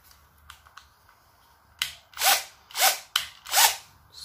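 An electric drill whirs in four short, loud bursts, each spinning up and stopping quickly, after a few faint clicks.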